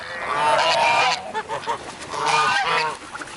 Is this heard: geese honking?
yes